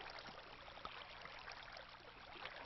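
Flowing water in a Minecraft cave trickles as a faint, steady wash with no distinct splashes, low and continuous throughout, with no talk.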